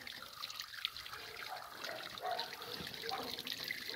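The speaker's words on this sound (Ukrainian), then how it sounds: "Вода накопичується на передній частині. І вода стікає." Water drains and trickles steadily from the body of a ZIL-130 truck, a continuous splashing flow that holds fairly even throughout, with a faint voice in the background.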